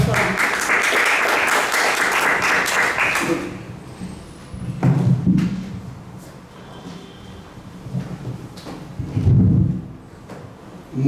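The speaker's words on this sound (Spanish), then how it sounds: "Recibimos con fuertes aplausos nuevamente al profesor Capsoli." Applause from an audience at a tribute to a historian, steady and fairly loud for about three and a half seconds before fading into room noise, with a few dull thumps and faint voices afterward.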